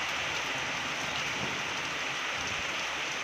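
Steady rain pours down over a village, a dense, even hiss of drops on surfaces with no pause, close and uniform throughout.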